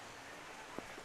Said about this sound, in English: And the rain continues to fall steadily.